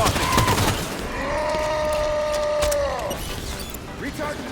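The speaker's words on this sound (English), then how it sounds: "Enemy elite firing on me." Enemy Elite weapon fire in Halo 5, a burst of plasma-like shots followed by a sustained whining tone, moderately loud amid game ambience and faint voice chatter.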